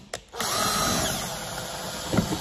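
A power drill whirs up after a couple of clicks and runs steadily, driving a shank wood screw into wood, its pitch dipping slightly as it bites near the end.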